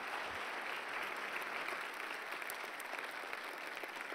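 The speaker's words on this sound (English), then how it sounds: "can we give him another round of applause" Steady applause from a church service audience as a speaker leaves the stage, a dense, even wash of clapping at constant level throughout with no voices.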